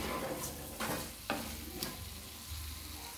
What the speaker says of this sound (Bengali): আলুর সাথে মশলাটাকে ভালো করে কষিয়ে নেব।